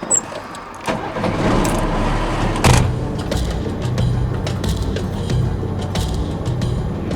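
A vehicle rolling off paved road onto a dirt track toward an abandoned cliffside city in Oman, with a steady engine drone and tyre rumble, a brief louder thump near the middle and continuous crunching road noise throughout.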